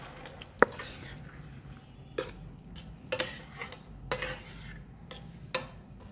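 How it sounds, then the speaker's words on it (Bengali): Mashed tomato is stirred and fried in a pan for tomato bhorta, giving a soft low sizzle broken by several sharp utensil clinks and scrapes against the pan at irregular intervals, close up with no voices. "সবগুলোকে নেড়েচেড়ে কিছুক্ষণ ভেজে নেব।"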